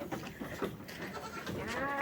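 A week-old baby goat bleats nearby in a few short, wavering cries. The calls are moderately loud and have no talk over them.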